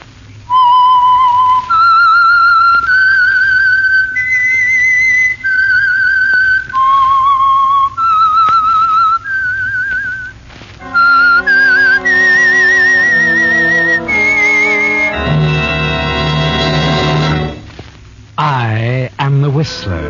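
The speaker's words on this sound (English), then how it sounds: "the signal to listen for is this whistle that identifies the Signal Oil program" The whistled signature tune of the radio program The Whistler: a bright, clear melody of sustained notes and a rising-falling phrase, followed by an orchestral swell with strings and brass joining in.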